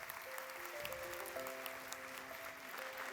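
Audience applause for the winners of the 2018 international final of a French dictation contest, a steady wash of clapping held at moderate loudness under a faint tonal hum.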